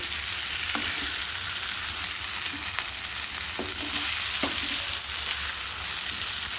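Potato pieces fry in a pan with a steady, close hiss of sizzling oil throughout, broken by a few soft scrapes and taps from stirring; no one speaks.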